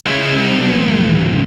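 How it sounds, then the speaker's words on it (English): Loud sustained distorted guitar chord sent through a whammy pedal pitching it downward as a transitional effect, one continuous swell that cuts off abruptly. "we added this transitional effect where we use the whammy pedal,"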